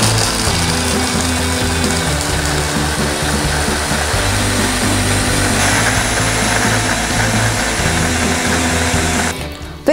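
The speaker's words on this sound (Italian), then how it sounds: "Dopo il pane trituriamo tutta la frutta secca" A food processor grinds bread and dried fruit in a steady, loud, continuous whir that stops abruptly at the end, with no talking.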